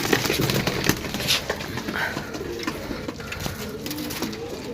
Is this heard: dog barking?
no